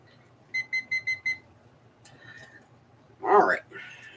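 A kitchen-style timer beeps five quick times in an even burst, loud and close, followed by scattered household noises and a short burst of voice.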